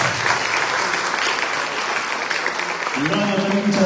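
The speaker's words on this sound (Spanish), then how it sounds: "¡Fuertes las palmas!" Audience applause at an academic-year opening ceremony in Chilca, steady dense clapping from a crowd filling the whole moment, with a faint tonal sound entering near the end.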